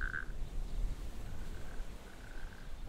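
Natterjack toads call from pools on coastal dunes in England, a faint, rasping trill repeating a few times at a distance over soft wind and ambient noise.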